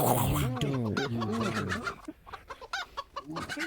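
A man imitates a clucking chicken with his voice, a run of quick, bouncing, throaty clucks up close, then breaks off into short, choppy vocal bursts.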